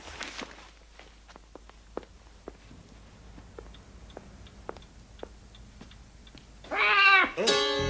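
A house cat meows loudly and close in a sudden burst near the end, after a stretch of soft, regular ticks and shuffling steps in a quiet room.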